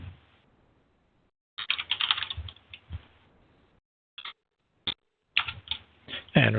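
Typing on a computer keyboard while logging in to a system, bursts of quick close key clicks separated by short pauses, with a few isolated single strokes.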